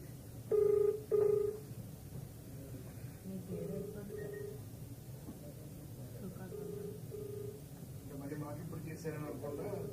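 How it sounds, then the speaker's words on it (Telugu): An outgoing phone call ringing, with a couple of loud ringback tones near the start and fainter repeated tones later, heard under people talking at a press meeting. "రింగ్ అవుతుంది."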